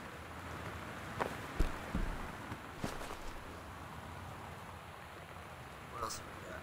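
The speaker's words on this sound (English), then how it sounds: "Rain." Rain falling in the game Gone Home, a soft steady patter on surfaces with a few scattered louder taps, heard alone at moderate level.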